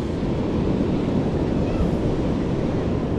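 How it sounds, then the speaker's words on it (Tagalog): Strong current where a river meets its mouth, a dense, steady rushing roar of water heard up close with wind buffeting the microphone, continuous and unbroken throughout. "Lakas ang agos oh."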